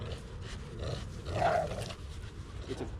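A dog nearby gives a short burst of low growling and huffing, fairly quiet and lasting only a few seconds with no voices.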